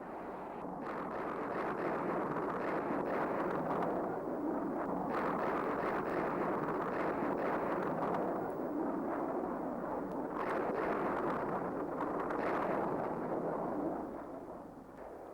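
B-52 bombing strikes pound bunkers and trenches around Khe Sanh in the Vietnam War, heard as a heavy, continuous rolling rumble of distant explosions that swells and eases without pause.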